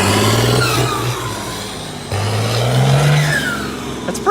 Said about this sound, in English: That's a pretty good engine in a crap tractor.